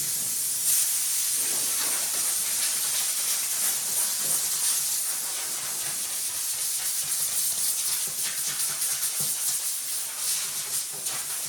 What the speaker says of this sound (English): blow this thing off and wipe it down